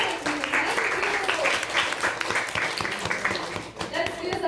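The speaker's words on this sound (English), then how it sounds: "With a loud round of applause" A loud round of applause rises from the audience at a youth leadership programme event, many hands clapping in a dense sustained wash with faint voices mixed in, tapering slightly near the end.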